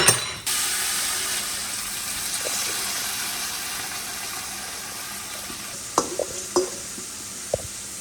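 Rice poured into a pot of frying onions while cooking lamb mandi, giving a steady broadband sizzle with a sharp onset, then a few brief stirring knocks and clinks near the end.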